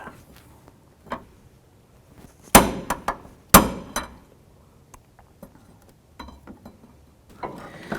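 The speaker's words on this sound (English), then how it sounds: "we're going to go ahead and pull that shaft completely out" Metal tapping and clanking as the intermediate steering shaft is knocked loose and drawn out of a 2004-2012 Chevrolet Colorado, with two sharp loud strikes amid scattered lighter knocks and clicks, no talking.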